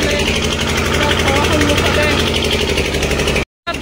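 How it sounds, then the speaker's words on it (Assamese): Several generators run at a wedding venue, a steady close mechanical drone with a low humming pulse, cut by a brief dropout near the end. "এয়া ইমান জেনেৰেটৰ ইফালে"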